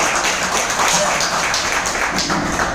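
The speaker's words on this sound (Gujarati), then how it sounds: "જોરદાર તાળી બંને કરોડપતિ કપિલ અને સરસ્વતી." Loud, steady applause fills the room at a hotel award gathering, greeting two millionaire winners, Kapil and Saraswati, as trophies are handed out, with dense clapping sustained throughout without a break.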